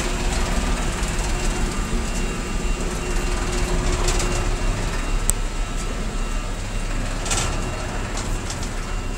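Steady hum of a 3-ton MEC ribbon mixer with a constant low rumble and faint clicks, running smoothly and evenly throughout without talk.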